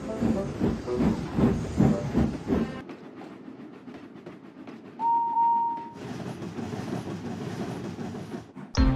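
A steam locomotive chuffs and hisses in a steady rolling wash of rail noise, with a short whistle tone in the middle and a shift in the texture of the puffing, moderately loud with no talk.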